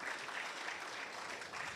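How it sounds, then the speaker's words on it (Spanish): Audience applause for a choir at a church Bible seminar, steady sustained clapping from a crowd filling the whole moment without pause. "Más aplausos, por favor, al coro"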